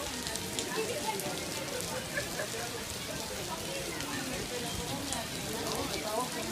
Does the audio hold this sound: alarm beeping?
no